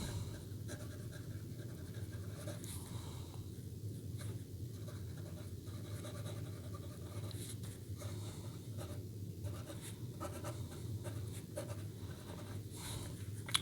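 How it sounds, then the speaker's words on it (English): A Diplomat Excellence fountain pen with a gold nib writes on paper, making a soft, continuous scratchy glide broken by short lifts between strokes, faint and close with no talking. "See how the nib glides over the paper."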